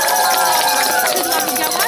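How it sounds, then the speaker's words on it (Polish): Dense, steady applause from an audience at a 2015 school nativity play (jasełka) in Pogórze, filling the room at close range for a couple of seconds without a break. "brawa wielkie dla nich"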